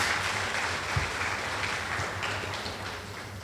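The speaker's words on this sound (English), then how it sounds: "Give them a round of applause, please." An audience applauds students for their exam results in Nevis, with dense, steady clapping that holds evenly throughout.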